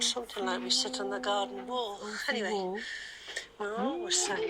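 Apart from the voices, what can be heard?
No everyday noises stand out.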